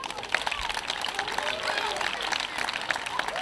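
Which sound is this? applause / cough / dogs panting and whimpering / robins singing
applause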